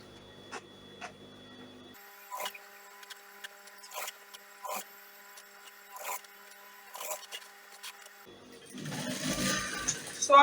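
Sewing machine stitching corset fabric, with a series of short rhythmic mechanical bursts at close range, quiet and intermittent, ending in a louder, busier run of noise.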